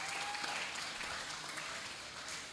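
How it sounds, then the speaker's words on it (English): Audience applause at an international guest lecture at a university, a moderately faint, even wash of clapping filling the whole stretch with no speech. "Give applause for us."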